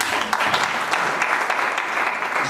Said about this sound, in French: Je voudrais ici demander à l'assistance de l'applaudir.